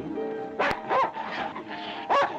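A dog barks in a handful of short, sharp yips and bow-wows spread over a couple of seconds, fairly close and loud against a steady low background hum.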